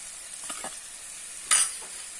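Long beans in coconut curry are stirred in a frying pan, giving a faint low sizzle with a few soft scraping strokes and one sharper clink of a utensil against the pan.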